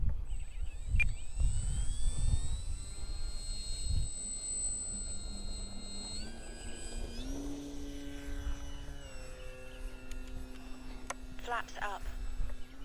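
A large Arrows Bigfoot RC model airplane flies on its maiden flight with the flaps set for takeoff. Its electric motor whines steadily, shifting pitch as the throttle changes, and wind and voices sound nearby.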